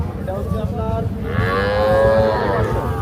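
A Sahiwal calf at a cattle market gives a long, drawn-out moo over a steady background murmur.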